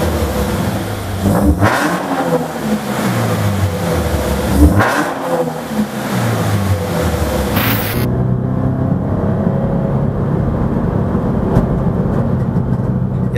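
A reprogrammed Toyota GT86 naturally aspirated engine revs up and down repeatedly in loud sweeping climbs, with sharp exhaust pops and crackles, then settles into a steady drone as the car drives on.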